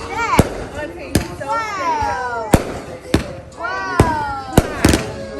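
Fourth of July fireworks go off in a string of sharp, loud bangs spaced a second or so apart, with people talking and shouting excitedly between the blasts.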